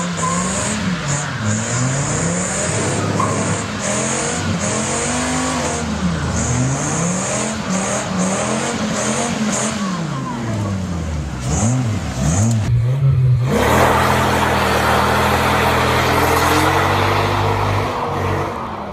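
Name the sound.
car doing burnouts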